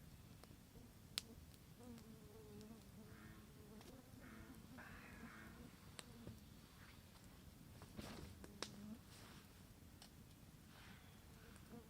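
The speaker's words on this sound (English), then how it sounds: "as soon as I open up the fly of the tent, mosquitoes are buzzing in" Mosquitoes buzz around an open tent flap on a pine forest hiking trail, a faint thin whine drifting in and out over quiet outdoor background, with a few small ticks and rustles.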